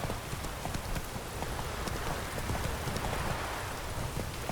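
Quick, rhythmic hoofbeats of the horse Roach galloping in the video game The Witcher 3, pounding steadily over a dense rain-like wash that fills the whole stretch, with no pauses.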